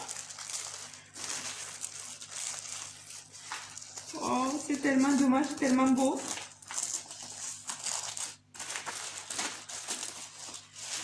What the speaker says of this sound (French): Je vais devoir enlever ce joli papier tout cassé, le papier de soie.